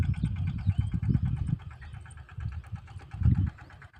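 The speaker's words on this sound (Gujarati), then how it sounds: "અહીંયા આપણે ટ્રેક્ટર ચાલુ થઈ ગયું છે આજે" A farm tractor's diesel engine runs nearby with a steady, low chugging pulse that swells slightly in loudness, heard alone without talk.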